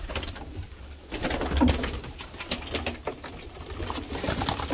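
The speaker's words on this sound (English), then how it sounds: "He's got some nice birds." Pigeons coo softly in a bird loft, low murmuring calls mixed with rustling and shuffling noises at moderate distance, heard without talk.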